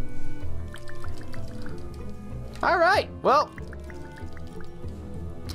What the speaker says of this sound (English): Can I have a drink of water?